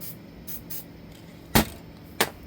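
An aerosol sealer is sprayed onto a painted wooden duck head in short hissing bursts: two faint puffs early, then two sharper, louder blasts later, separated by quiet, with no talk.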